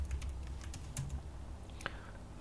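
Keys on a computer keyboard tapped in a quick, uneven run while a chart label is typed, soft clicks close by over a low steady hum, with no talking.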